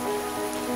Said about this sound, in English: I'm stuck in a really heavy rain shower at the moment